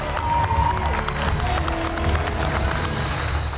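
Former contestants cheer and applaud from a kitchen competition set, a dense, steady wash of clapping and crowd noise running loud and continuous throughout.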